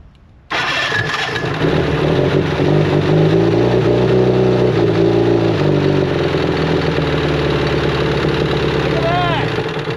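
An Evinrude Playmate outboard motor fires up after a brief quiet moment and runs steadily at a loud, close idle, with a faint voice briefly audible over the engine.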